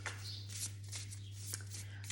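Oracle cards being shuffled by hand, soft papery riffling swishes repeating in quick bursts, close and faint over a steady low hum.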